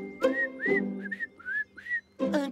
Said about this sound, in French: Il a sifflé sans savoir ce qu'il disait.